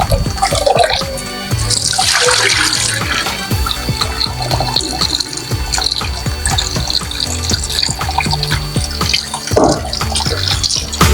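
Running tap water pours steadily over Ofada brown rice being rinsed in a bowl, with continuous splashing and sloshing, fairly loud and close, and no talk.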